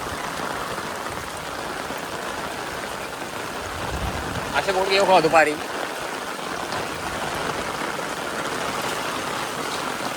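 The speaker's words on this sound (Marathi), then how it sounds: "पाऊस तर जोरात हा." Heavy rain pours steadily in a dense, hissing wash, with a brief spoken phrase briefly rising over it midway.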